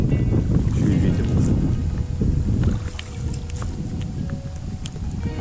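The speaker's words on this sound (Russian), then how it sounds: "Еще и ветер." Wind buffets the microphone on a gloomy, rainy day while river fishing with a spinning rod on rapids, a loud continuous low rumble with gusts easing slightly partway through.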